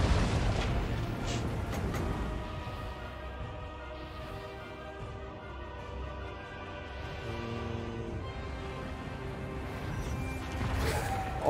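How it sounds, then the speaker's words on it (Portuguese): Cannon tower shots from a vampire-invasion video game, heard as a dense, continuous wash of overlapping booms and crashes at steady loudness, with heavier bursts near the start and end. "o tiro dessa torre é basicamente o Canhão dos Infernos"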